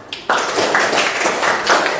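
A class of students clapping a short rhythmic pattern in unison, sharp group claps at steady intervals after a brief pause, fairly loud and close.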